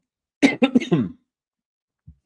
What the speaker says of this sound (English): I think I got a cough.